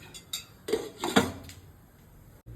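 A few metallic clanks and clatters of a lid set onto a biryani cooking pot, close by, followed by quiet.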